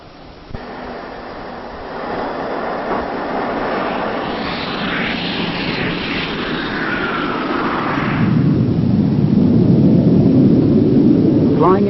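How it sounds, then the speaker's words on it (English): A Jet Provost training jet flies past, its engine roar building steadily from a distant whine to a loud, broad rush that peaks near the end. "The new aircraft is the Jet Provost, much more powerful than the Chipmunk"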